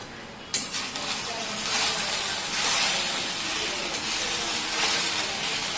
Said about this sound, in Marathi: आणि हे चवीनुसार मीठ छान परतून घेऊया